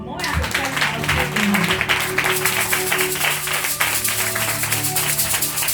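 A church congregation claps and cheers continuously at a deliverance service, steady rhythmic applause under a loud voice speaking over it.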